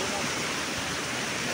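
A waterfall pours in a cool, tree-shaded spot, giving a dense, even, close wash of rushing water that holds steady throughout.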